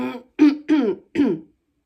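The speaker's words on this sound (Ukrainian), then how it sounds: "оце закашлююсь, закашлююсь, закашлююсь" Three short, raspy throat-clearing coughs in quick succession, close and fairly loud, with brief pauses between them and nothing else around.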